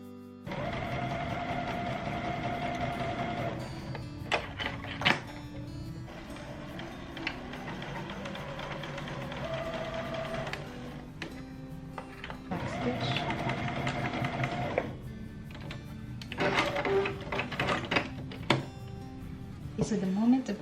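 Home sewing machine running in long stitching bursts while a sleeve is sewn around onto a dress, a steady close whirring hum broken by brief pauses and clicks, with some background noise.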